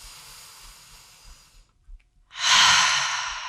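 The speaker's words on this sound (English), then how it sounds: "Take a deep breath." A deep breath during gentle exercise: a soft, airy inhale trails off into a brief pause, then a louder, breathy exhale follows close by, with no talking.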